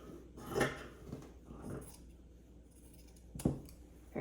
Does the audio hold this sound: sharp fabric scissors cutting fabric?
yes